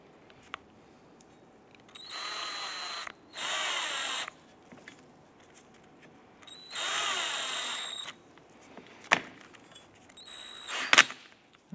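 A power drill drives the front grille screws on a 2005-2007 Ford Five Hundred in several short whirring bursts separated by quiet pauses, with faint clicks and one brief final spin, heard nearby.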